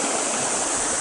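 Creek water flowing at Walker Creek in Litchfield National Park, a steady broadband rush and gurgle that stays close and constant throughout, with no voices.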